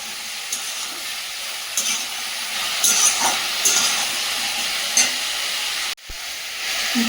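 Garden vegetables fry in oil in a pan, a loud, steady close sizzle and hiss with occasional stirring scrapes and a brief break near the end.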